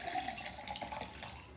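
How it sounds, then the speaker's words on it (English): Ordinary drinking water pours into a tall glass, filling it halfway with a steady, close trickling splash that runs continuously and fairly quietly. "we need to put in some ordinary drinking water and fill the glass half full"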